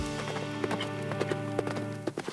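Racehorse hooves clopping on the ground at a steady gallop-like rhythm during a women's team horse race, close and fairly loud over a droning hum, with no talk.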